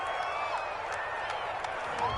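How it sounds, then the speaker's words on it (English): Stadium crowd noise in a Madden football video game, a steady murmuring roar with faint whistle-like streaks as fans react to a penalty call, held at an even level throughout. "this crowd does not like that call"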